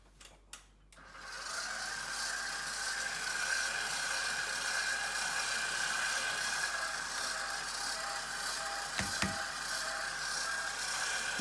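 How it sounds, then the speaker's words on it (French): A hand-cranked pasta machine rolls a sheet of dough for scallop ravioli, giving a steady mechanical ratcheting whir that runs close and continuous for about ten seconds, with a couple of brief clicks near the start and end. "Et je la repasse dans la machine."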